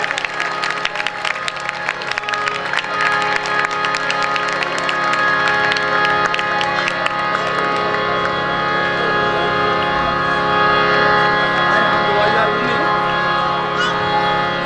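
Church congregation at a township church program applauding loudly, sustained clapping and cheering that swells steadily over a long stretch, with a held tonal hum running underneath.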